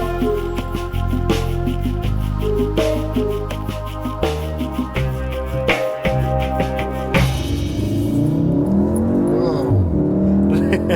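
A 2016 VW Golf R engine pulls hard on a race track, revs climbing in steps with distinct gear changes, then a rougher, broader roar of engine and road noise as speed builds, loud and close from inside the car.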